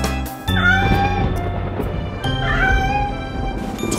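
Cat meowing in a French Halloween children's song about three little kittens, repeated meows over music, close and loud.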